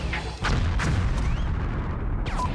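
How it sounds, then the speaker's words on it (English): Deep, booming cannon fire rings out in a naval battle scene, with heavy rumbling shots and their echoing, splashing aftermath blending into a dense, loud roar across the short stretch. "Cannon fires and splashes."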